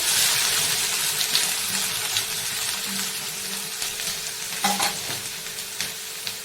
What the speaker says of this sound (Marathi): तेल कांदा सोडू आपण तेलामध्ये